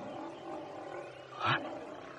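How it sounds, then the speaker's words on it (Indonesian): A tiger roar used as a drama sound effect, one short growling burst rising to a loud peak near the end of a low rumbling background. "Aku mendengar suara harimau."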